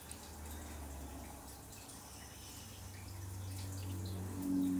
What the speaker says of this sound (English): The water sound, if you guys can hear that in the background, is just running some water over the steaks I took out.